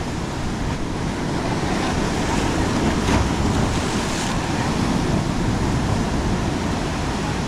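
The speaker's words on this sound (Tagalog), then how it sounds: "Lakas pa naman ng alon." Continuous rushing wash of ocean surf with heavy wind buffeting, a broad constant roar without clear pauses.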